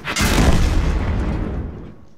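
A tank shell strikes an enemy tank in World of Tanks, a single heavy boom with a rumbling tail that fades over about two seconds.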